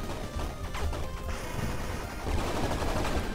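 Rapid gunfire in the action video game Bleed, a quick run of sharp cracking shots and crashes that repeat through a few seconds over a busy game backdrop.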